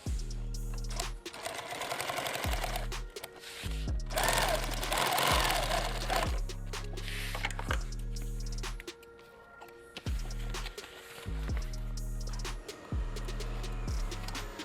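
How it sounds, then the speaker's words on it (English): A sewing machine stitches velcro onto the liner of a helmet bag in short, loud mechanical bursts. Its rapid needle rhythm starts and stops repeatedly, with brief quiet pauses between runs. "Let's go ahead and sew that a little better."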